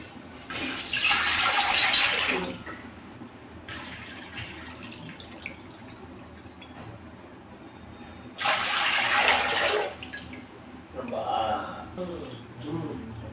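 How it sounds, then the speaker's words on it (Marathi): Water gushes into an aluminium pot in two separate pours, splashing loudly, with quieter handling sounds between them. "आता यात आपण 2 भांडे पाणी घालणार आहोत."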